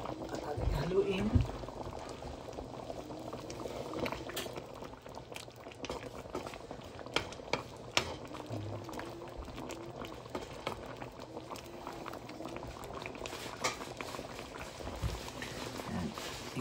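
Pork menudo simmers in a pot, a faint continuous bubbling and popping of boiling sauce that runs steadily throughout, with a voice speaking intermittently over it.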